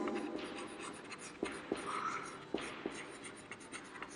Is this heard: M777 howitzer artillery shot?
no